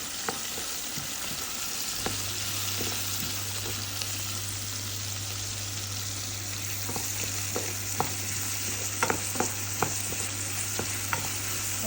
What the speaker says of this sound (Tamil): இப்போ நாங்கள் இதை தாளிக்கிறோம்.